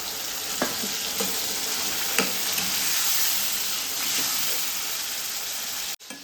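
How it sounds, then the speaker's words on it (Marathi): Oysters and spring onion greens sauté in a pan with a steady close sizzle, broken by a few soft stirring scrapes and a brief cut near the end. "कांद्याची पात आहे ती थोडीशी परतून घ्यायची आहे जास्त परतून घ्यायची नाही"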